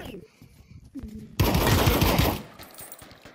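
Gunfire in a mafia video game: a loud, dense burst of rapid automatic shots lasting about a second, preceded by quieter scuffling and tapping sounds.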